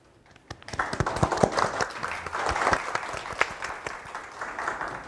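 An audience applauds poets invited to a literary lecture salon, steady crowd clapping rising after a brief quiet start and continuing throughout.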